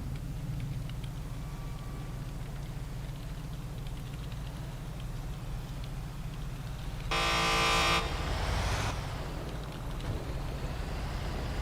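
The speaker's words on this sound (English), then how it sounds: "That guy's really honking at us." A car horn in the video game GTA blares in one sustained honk of about a second, loud against a steady low engine and traffic rumble.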